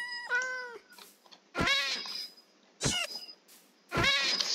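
Cats meowing in the Minecraft video game with a plastic texture pack: several separate, clear meows with pauses between them, close and fairly loud with no talk over them.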